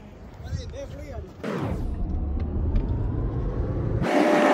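A car sets off on a drive to the Vajreshwari temple near Vasai, Thane, its engine rumbling steadily and growing louder as it moves, with a heavy low-frequency road hum and a sharp burst of noise near the end.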